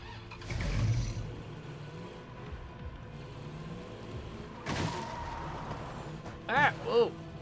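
A car engine in State of Decay 2 revs and surges in short bursts as the vehicle drives into zombies, with a couple of thuds and growling accelerations, fairly quiet, and a voice speaks over part of it.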